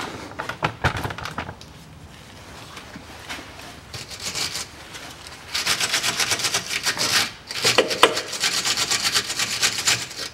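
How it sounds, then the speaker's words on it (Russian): A threaded bolt is scrubbed clean of corrosion during a rear stabilizer bushing replacement on a 2012 Nissan Qashqai 2.0, giving bursts of close, loud rasping strokes that grow faster and denser toward the end. "Предварительно немножко зачищу, смажу. Коррозия на резьбе видна."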